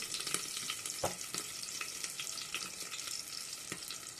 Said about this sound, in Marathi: सगळ्या मिरच्या मी तव्यात सोडलेल्या आहेत आणि याच्यावरती आपल्याला ठेवायचे झाकण